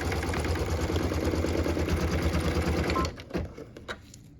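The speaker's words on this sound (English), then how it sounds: "And go ahead and let it keep stitching." A sewing machine steadily stitches a Christmas tree ornament, its dense mechanical whirring running loud and close for about three seconds before stopping abruptly, followed by a few faint clicks and taps.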